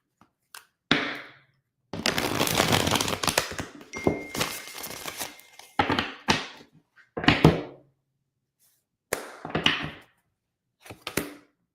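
Tarot cards being shuffled close by, in quick riffling bursts of papery crackle separated by short pauses, with no talking.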